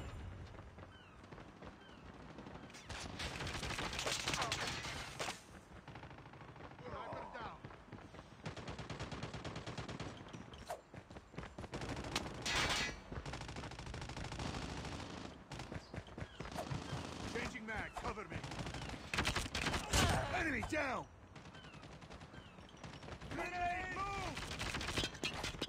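Rapid automatic gunfire from a sentry gun in COD Mobile multiplayer, bursts of shots recurring throughout amid other game effects, with a voice speaking over the action.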